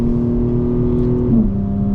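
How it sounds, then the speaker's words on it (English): A 2025 BMW M4 Competition xDrive with cold air intakes, a non-resonated single mid-pipe and downpipes idles with its exhaust valves open, a steady low burble that shifts in pitch near the end, close and alone. "Burble is on. Valves are open."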